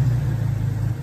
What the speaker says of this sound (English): I can start my car with the key in the pocket